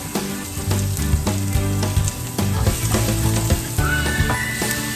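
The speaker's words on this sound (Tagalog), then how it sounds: "Olive oil, garlic, cook slightly. Put the onion," Garlic and onion sauté in olive oil with a loud, continuous crackling sizzle, close up and steady, broken by a few faint stirring taps.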